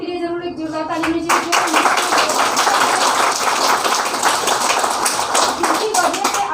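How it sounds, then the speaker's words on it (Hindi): An indoor meeting audience breaks into loud, sustained clapping after a brief spoken prompt. Many hands keep up a dense, close applause for several seconds. "जोरदार ताली लीजिए।"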